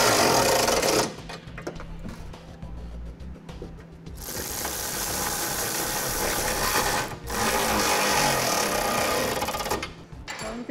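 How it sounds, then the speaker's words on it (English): A power tool running an 11/16 socket tightens rear bolts on a Curt trailer hitch receiver being fitted to a 2003 Infiniti G35, with loud continuous whirring bursts and a short pause between runs. "we're going to take an 11/16 socket and we'll start tightening down the two rear bolts first."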